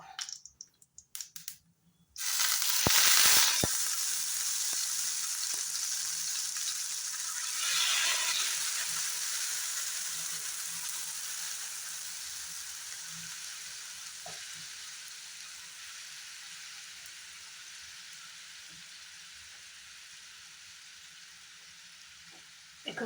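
Curry paste for egg curry hits hot white oil with nigella seeds in a pan, bursting into a loud, close sizzle after a short quiet start, then a continuous frying hiss that slowly softens, with a few stirs.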